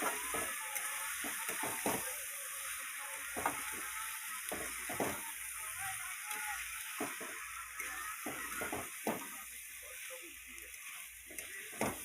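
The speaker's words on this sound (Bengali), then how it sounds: "দিয়ে এইভাবে নাড়াচাড়া করে নিতে হবে" Chicken with RCM masala is stirred in a frying pan over a constant soft sizzle, with repeated scraping strokes of the spatula at an uneven rhythm, close and moderately quiet, with no voices.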